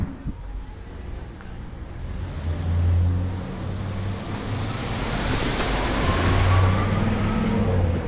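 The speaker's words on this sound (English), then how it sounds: "Comes a UPS truck." A UPS delivery truck rolls past on a street, its engine and tire noise swelling as it approaches and fading away, with no talking over the steady roar.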